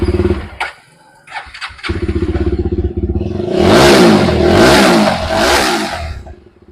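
A Jawa 42 Bobber motorcycle, chrome edition with alloy wheels and a leg guard, is cranked over with a brief stutter, catches and settles into a steady idle, then its engine is revved hard in three loud swells before dropping back.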